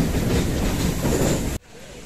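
Steam-hauled mountain train on the Mettupalayam to Ooty line, a steady loud rolling rumble of carriages close by that cuts off abruptly into quieter ambience.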